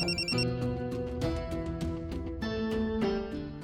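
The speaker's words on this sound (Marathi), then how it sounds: "कोणाचा तरी फोन कुणाचा आहे ग बघू." A telephone rings in a home during a Marathi comedy serial, a melodic ringtone pattern of repeated tones playing continuously and fairly loud, with no one talking over it.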